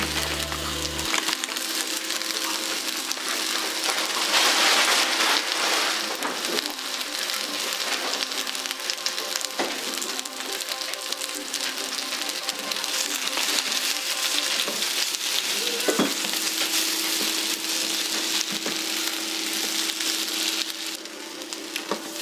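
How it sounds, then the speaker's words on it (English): A handful of spinach wilting in a hot pan gives a dense, even hiss and crackle that runs steadily, close and fairly loud, with small pops scattered through it. "Now that our pan is hot, we're going to take a handful of our spinach or other greens. We're going to cook it down."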